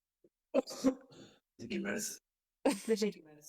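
A person coughs and clears their throat in three separate bursts, close and fairly loud, with short silences between.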